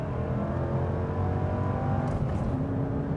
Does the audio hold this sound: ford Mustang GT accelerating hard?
yes